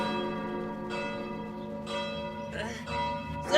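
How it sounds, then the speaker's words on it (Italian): Church bells ringing with sustained, resonant tones that overlap and decay, while a voice speaks intermittently in Italian over them. "Queste campane non la smettono mai di suonare!"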